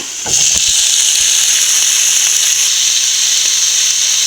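Chopped lemon hits a hot pan of curry base already holding garlic and curry leaves, setting off a loud, steady close-up sizzle and hiss that holds evenly for several seconds.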